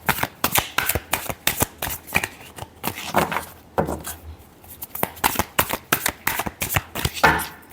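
Tarot cards being shuffled by hand, a close, busy run of quick riffling and slapping bursts that repeats steadily with brief pauses, with no talking over it.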